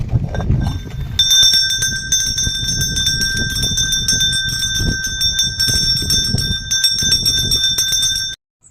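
A temple bell rings at a hilltop shrine in Ahobilam, its clear metallic tones sustaining steadily over heavy wind rumble, with faint repeated clangs and no voices.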